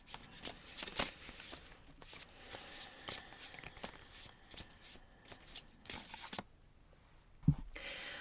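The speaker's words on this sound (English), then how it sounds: "So I'm going to give these cards a quick shuffle." Tarot cards being shuffled by hand, a steady run of crisp riffling and slapping for several seconds, close and fairly quiet, ending with a soft thump as the deck settles.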